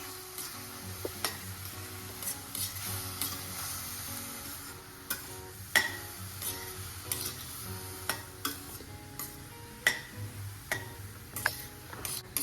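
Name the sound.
stirring and mixing sev khamani ingredients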